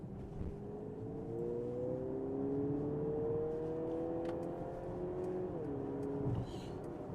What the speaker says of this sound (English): Even the exhaust note changes.